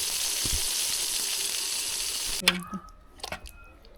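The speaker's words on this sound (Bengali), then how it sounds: "সব বেগুনগুলো এখন ভেজে নেবো এভাবেই" Eggplant pieces fry in a pan for a winter vegetable khichuri, giving a steady, close sizzle for about two seconds before it cuts off into a few sharp clinks and clatters.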